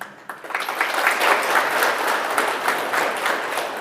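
A crowd applauds loudly and steadily, dense clapping running throughout without a break.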